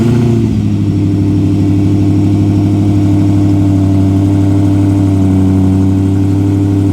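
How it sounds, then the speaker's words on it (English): A deep, steady exhaust rumble from a 2025 Ford F-150 Raptor R's supercharged V8 idling loudly, with a brief rev at the start before settling into a constant low drone. "I thought I'd give you guys an exhaust clip to see what it sounds like."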